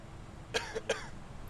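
Two short coughs in quick succession, fairly faint against a steady background hum, with no talking.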